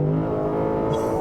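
A 2022 Lexus IS 500 F-Sport Performance V8 revs with a deep, loud, rumbling growl, amplified through the car's speakers, holding steady throughout, heard from inside the cabin.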